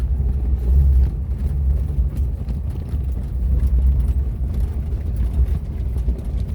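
A 1987 Suzuki Samurai engine runs close by with a loud, steady, low rumbling drone that stays even throughout.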